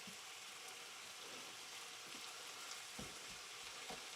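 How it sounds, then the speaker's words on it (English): Beef mince cooking in a pan gives a quiet, steady bubbling hiss, faint and continuous with a few soft pops and no voices. "It's bubbling rather than sizzling. We want to get it to a sizzle."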